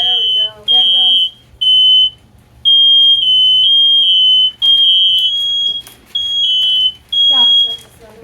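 Several smoke detectors sound together indoors, a loud, piercing electronic beep repeating in long pulses with short gaps, while people talk and exclaim underneath.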